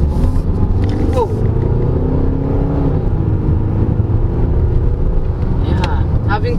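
Steady road and engine rumble inside the cabin of a 2024 Kia Grand Carnival SX on Continental tires, a continuous loud drone with faint whirring, heard throughout.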